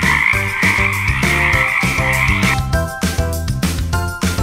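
Rhythmic frog croaks pulse loudly against an ongoing tuneful accompaniment, repeated evenly throughout, with no voices.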